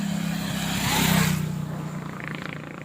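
A motorcycle engine hums past near a public fishing pond, swelling to a loud peak around the middle and then fading as it moves away.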